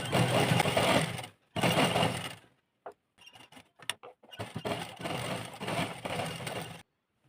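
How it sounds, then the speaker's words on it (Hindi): A sewing machine stitches a neck strip on a V-neck suit, running in several steady close bursts separated by short pauses and small handling clicks. "इस पट्टी के ऊपर ही सिलाई लगानी है हमें"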